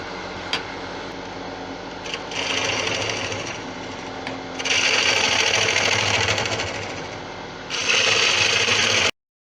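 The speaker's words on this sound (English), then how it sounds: "Then I'm going to put a new edge on the bowl gouge" A bowl gouge used for turning a tigerwood bowl is sharpened on a grinder, which whines steadily through the whole stretch. The sound swells into brighter, louder grinding bursts as the steel meets the wheel, then cuts off abruptly.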